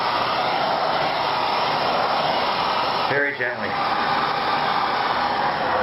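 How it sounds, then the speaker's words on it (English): A Miele S5 vacuum cleaner with a sealed HEPA filter roars loudly and steadily while cleaning a Honeywell air filter, with a brief dip in the whine as a voice speaks over it. "This is a Meal S5 vacuum with a sealed HEPA filter unit."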